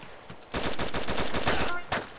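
Rapid automatic gunfire from the MTA DayZ video game, a dense burst of shots lasting well over a second, loud and close, with a single further shot just after.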